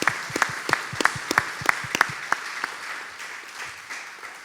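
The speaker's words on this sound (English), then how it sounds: "let's give him another round of applause for Marty." An audience at an annual meeting claps for a guest, a short round of applause with distinct, spaced claps that thin out and fade over a few seconds.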